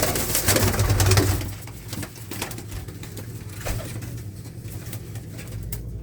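Shah Akhi breed pigeons coo softly amid rustling and shuffling noises, with a louder burst of bird sound at the start that settles into low, steady cooing.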